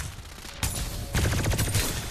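Rapid gunfire in the Farlight 84 shooter game, with short bursts of automatic shots, loud and close, following a brief quieter lead-in and no speech.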